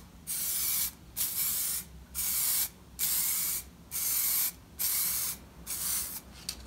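Aerosol tint spray applied in short passes over car taillights, seven or eight steady hissing bursts of about half a second each separated by brief gaps, close and loud with no talking.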